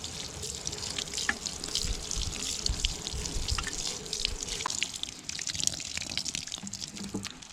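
Water trickles and drips steadily as garden plants, including radishes, are watered outdoors, a close, continuous splashing wash running throughout with scattered droplet taps.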